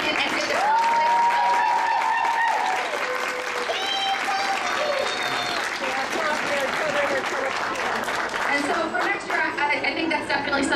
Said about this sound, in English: An extra round of applause for all the children who came in and did this